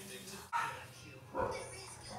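A voice imitates a dog barking, with two short gruff yaps about a second apart, close and moderately loud.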